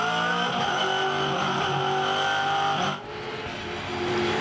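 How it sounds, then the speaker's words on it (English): A 2009 V8 Supercar racing at Phillip Island, its engine note loud and close, with repeated throttle blips and lifts in steady rhythm, then a brief dip before it revs back up; tyre noise also comes through. "Hear the amount of throttle resets in Craig's car."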